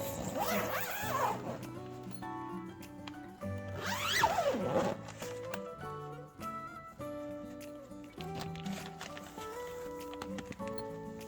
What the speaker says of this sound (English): we should zip it closed to keep who out?